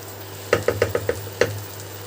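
A spoon scrapes through a raw banana kofta curry with cashew paste and turmeric in a wok. It makes five quick rhythmic strokes, then a pause and one more, over a soft sizzle.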